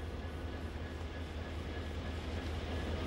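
A freight train waiting at a remote railway station, its diesel locomotive giving a steady low idling rumble with a faint tonal hum, continuous and unbroken throughout.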